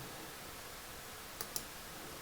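A computer mouse clicks twice in quick succession, sharp and faint, in a quiet room with a low steady background hum.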